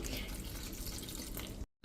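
Water pours steadily from a tap onto about 300 grams of chopped brinjals in a kitchen, a continuous close rushing splash that cuts off abruptly near the end.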